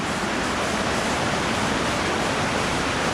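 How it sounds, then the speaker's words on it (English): A small waterfall cascade in a slot canyon on Vancouver Island roars in a loud, steady, broadband rush of falling water, close by and unbroken. "There's the next little waterfall cascade."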